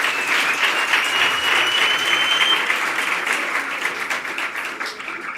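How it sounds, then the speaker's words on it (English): An audience at a transport department programme launch claps in sustained, dense applause that stays loud and even throughout. "A round of applause."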